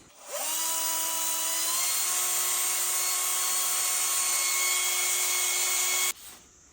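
A rotary brush wheel spins against a Bush Hog RZ60 gearbox, producing a loud, steady, high-pitched whine that rises quickly, holds for about six seconds, then cuts off abruptly.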